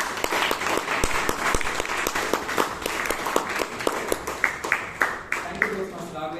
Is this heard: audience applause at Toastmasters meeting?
yes